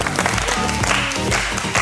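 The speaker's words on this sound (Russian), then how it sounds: "Девушкам аплодисменты." An audience at a comedy-style game show applauds loudly in a dense, continuous wash of clapping.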